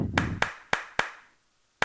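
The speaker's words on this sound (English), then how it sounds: "how about a fake clap?" A few sharp, separate hand claps from children at a children's liturgy session, spaced unevenly and close by, the last one coming after a short pause.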